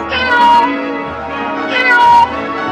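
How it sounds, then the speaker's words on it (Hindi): A cartoon kitten gives two drawn-out, high, plaintive meows close up, with a short pause between them and no talking. "अरे चिंटू बाबू को छोड़ो, चलो इस बिल्ली के बच्चे को डॉक्टर के पास लेकर चलते हैं।"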